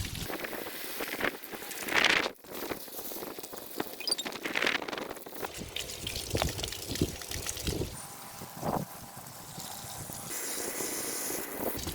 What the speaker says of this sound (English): Big wind today